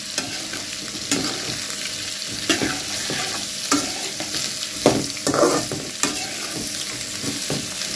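A spatula stirs bitter gourd pieces frying in oil in a pan, with steady sizzling under a series of scraping strokes against the pan, each sharp and close, spaced roughly a second apart.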